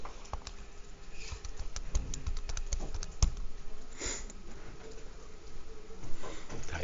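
Fingers tapping buttons on a graphing calculator while entering the elements of a 2 by 2 matrix, a steady run of quick, light clicks close by, with no talking.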